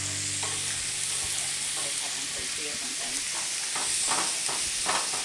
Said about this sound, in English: we're just gonna stir this continuously kind of here to let it get heated up.